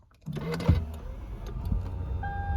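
A 2010 Lexus ES350 engine with 200,000 miles cranks and catches, then settles into a low idle with a brief whine from the dashboard electronics.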